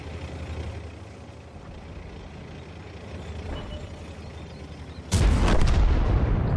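Artillery fire in a tank video game with a Chinese IS-3: a low rumbling engine drone runs steadily, then one loud, sudden boom crashes in near the end and rolls on at high volume.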